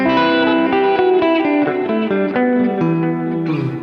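Electric guitar played through a single dotted-eighth delay for worship music, with sustained chords and repeating picked notes ringing out loud and close, each note trailed by one echo, no voices.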